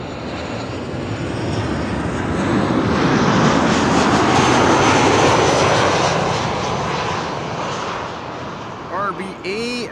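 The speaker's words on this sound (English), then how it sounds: "Next up, Transavia arriving from RBA Rabat" A Transavia airliner arriving at Amsterdam Schiphol swells into a loud, steady jet roar that builds and fades; a voice joins briefly near the end.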